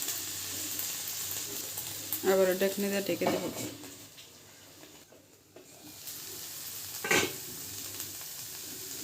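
Brinjal and fish fry in a pan with a soft, steady background sizzle, while someone speaks briefly over it in the middle.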